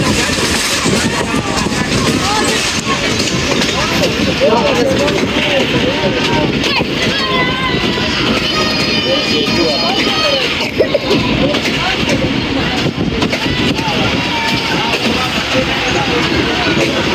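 The Rehman Baba Express 48DN rumbles steadily as it approaches a crowded Jahangira Road station, with wind buffeting the microphone and someone talking over the continuous rolling noise.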